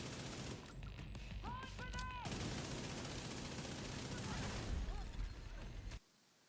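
Gunfire in The Division 2 rattles in rapid bursts for most of the clip, with electronic game tones layered over it, before cutting off abruptly near the end.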